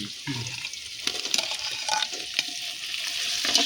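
Tomatoes and bird's eye chilies drop into a hot frying pan with curry leaves for a thick duck curry, giving a steady, close, bright sizzle with small bursts of spattering throughout.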